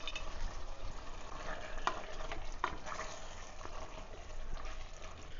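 Half a kilo of mutton sautés with ginger garlic paste in a pressure cooker, a continuous close sizzle broken by scraping stirs and occasional clinks of the spoon against the metal.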